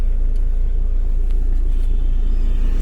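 A Hyundai Elite i20 Asta diesel car's engine runs with a loud, steady low rumble heard from inside the cabin, unchanging and without talk.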